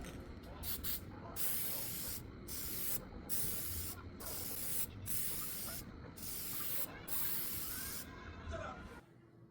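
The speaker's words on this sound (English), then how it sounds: "Next step on these measuring spoon and cup handles is to coat them with some crystal clear lacquer." Crystal clear lacquer sprayed onto measuring spoon and cup handles in steady hissing bursts, repeated every second or so with brief pauses, close and fairly loud throughout.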